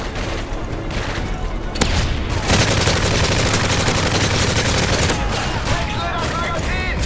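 Sustained automatic gunfire from a Call of Duty: Modern Warfare 3 survival match rattles loudly and continuously, with dense volleys and occasional booms, while a player speaks over the battle.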